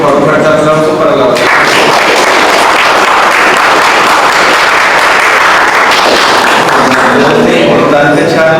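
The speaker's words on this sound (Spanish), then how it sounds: "les pido por favor un fuerte aplauso" Loud sustained applause from a conference audience after a talk on integral biosafety, a dense wash of clapping filling the room, with some voices mixed in.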